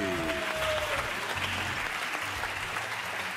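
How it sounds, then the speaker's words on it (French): Studio audience applause on the French TV game show Les 12 Coups de Midi during a Halloween episode: steady, dense clapping that stays loud and even throughout, with no voices over it. "s'il vous plaît, on applaudit"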